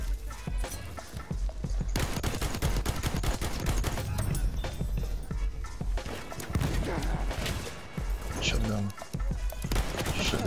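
Shotgun fire in the World War I shooter Battlefield 1, heavy blasts among a busy battle of repeated shots, loud and near, with a player speaking over the chaos.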